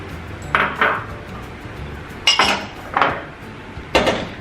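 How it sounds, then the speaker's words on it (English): A utensil clinks and knocks against a bowl in four separate bursts while dry cake ingredients and almond meal are stirred together, close and fairly loud with quiet gaps between. "I'm just going to give it a good stir just to make sure it's all, the dry ingredients are all mixed in together"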